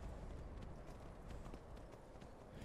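A horse runs in Skyrim, its hoofbeats a steady, quiet clip-clop rhythm that continues without a break.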